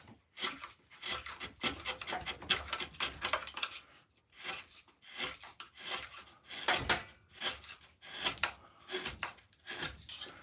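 A carving tool cuts into a piece of wood, giving a run of short, dry rasping scrapes in irregular bursts with brief pauses between strokes, close and fairly quiet, with no voices.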